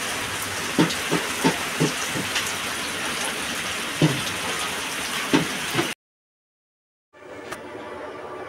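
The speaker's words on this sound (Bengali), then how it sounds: "আর খুব জোরে বৃষ্টিও পড়ছে" Heavy rain pours onto open green grass where a cow stands tied, a dense steady hiss with scattered sharper drops. The downpour cuts out briefly, then returns a little quieter.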